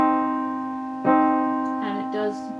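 Keyboard plays the repeated chord of Khachaturian's Andantino as detached quarter notes, two clear separated strikes with short gaps between them, sustained tones decaying, no talking.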